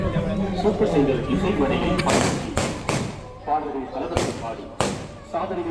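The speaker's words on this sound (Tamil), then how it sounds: "அங்கால வெடியும் கொளுத்தி நம்புறாங்க" Firecrackers go off at a village welcome celebration in Jaffna, several sharp bangs cutting through a noisy crowd with music and voices throughout.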